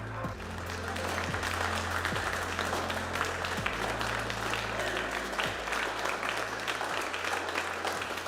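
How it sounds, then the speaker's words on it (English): Rocket Lab mission team applauding in mission control after confirmed payload deployment on 'The Moon God Awakens' launch, steady dense clapping lasting throughout over a low hum of equipment noise. "from the applause from our team"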